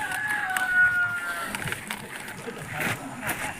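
Chickens on a Malaysian smallholding give a few brief clucks and a short crow-like call up close, mixed with handling noise and background voices.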